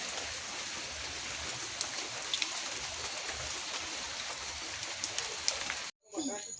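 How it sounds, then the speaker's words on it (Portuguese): Light rain patters steadily beside an outdoor bonfire on a dark evening, a dense even hiss broken by faint crackles and drips, ending in a sudden brief silence. "A chuvinha e a fogueira ali."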